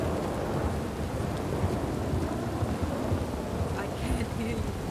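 Steady rain and rumbling thunder in a Red Dead RP game storm, a dense continuous hiss over a deep low roll, with faint voices briefly audible beneath the weather.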